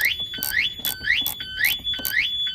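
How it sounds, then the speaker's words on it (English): A Toyota Hiace car alarm goes off after the battery is reconnected, repeating loud rising electronic whoops and chirps in a steady fast cycle, close and alone. "now it's got power, alarm system's going"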